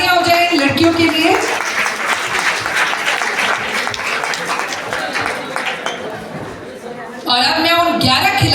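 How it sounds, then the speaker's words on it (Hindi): A crowd at a school annual function in Pitampura, Delhi applauds a group of girls, dense clapping and cheering that fills the hall, with a voice speaking over it at the start and end. "तो जोरदार तालियां हो जाए इन लड़कियों के लिए"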